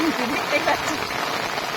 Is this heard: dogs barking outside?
no